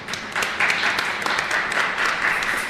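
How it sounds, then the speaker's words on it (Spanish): Applause from the congregation at a live Sunday Mass in a parish church, steady moderate clapping that swells after a moment and carries on evenly, with a little background voice mixed in. "El aplauso para ustedes."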